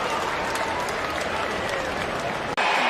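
A stadium crowd cheers loudly at a Chicago Bears vs Cincinnati Bengals preseason football game, a steady roaring wash of applause and shouting that barely dips before resuming.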